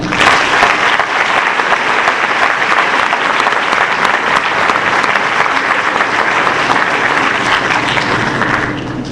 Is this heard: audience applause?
yes